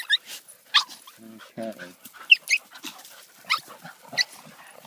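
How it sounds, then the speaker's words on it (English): A pack of dogs being walked gives sharp, scattered yelps, short barks and whimpers in quick bursts, fairly close by, while a person says a brief word. "You don't have to yelp and bark and bite and snap at them all the time."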